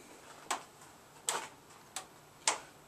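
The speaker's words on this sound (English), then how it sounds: "the panels expanding and contracting a little bit against each other." Metal roof panels ticking faintly as they expand, four sharp, sparse ticks at irregular intervals in a quiet setting.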